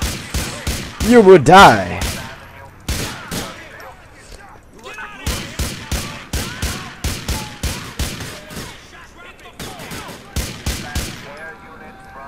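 Rapid bursts of gunfire from the player's gun in a video game, loud clustered shots repeating in quick rhythmic volleys across the whole stretch, with a voice speaking briefly early on.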